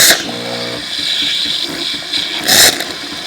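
A Jura E6 Platinum 2023 espresso machine rinses water through its milk frother, giving a steady close-up hiss and gurgle with a buzzing tone at the start and a brief louder spurt near the end.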